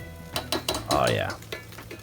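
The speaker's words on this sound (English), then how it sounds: "Stir these chips up one more time." Tortilla chips being stirred in a pan for pulled pork nachos, giving a few scraping, clattering strokes close by, with a brief sizzle and a voice in the background.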